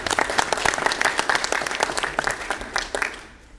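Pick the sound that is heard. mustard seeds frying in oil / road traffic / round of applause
round of applause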